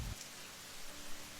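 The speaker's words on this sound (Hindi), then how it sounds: "जंगल आता है, जहां खूब बारिश हो रही थी" Heavy rain falling in a forest, a dense, steady hiss of drops that fills the short moment evenly, fairly faint and with no talk.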